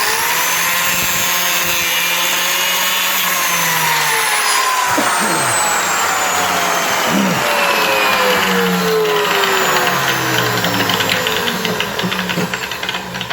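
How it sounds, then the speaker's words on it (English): A biscuit joiner whines steadily while plunge-cutting into a wood piece, a loud continuous motor tone with a shifting pitch as the blade bites, heard close and alone. "nice clean biscuit plunge cut in that"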